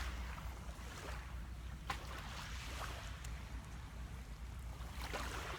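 Quiet beach ambience at Crayola Beach, a faint, steady wash of surf and wind with low rumble throughout and no distinct events.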